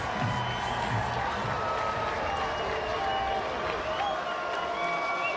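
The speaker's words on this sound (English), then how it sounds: "Homecoming crowd making their presence felt" A homecoming crowd at a Ball State college football game in NCAA Football 2025 roars steadily, a dense, sustained wash of cheering and applause from a large stadium audience.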